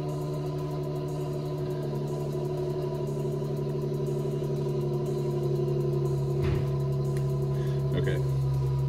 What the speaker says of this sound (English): This kid across the street's got a G37. I'm actually not sure if he cut out the muffler. It sounds like maybe he did. It's pretty loud.